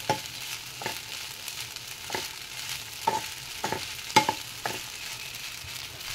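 Sabudana khichdi stirred in a pan, soft continuous sizzling under regular scraping strokes of a spoon, each stroke a short clear scrape roughly once a second, close and without talk.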